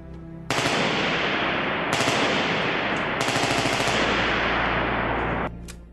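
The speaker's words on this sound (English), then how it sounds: "made their new featherweight M14 dangerously uncontrollable as a machine gun" A featherweight M14 rifle fired fully automatic, a loud continuous rapid burst of gunfire lasting about five seconds with brief breaks in the roar, then an abrupt stop.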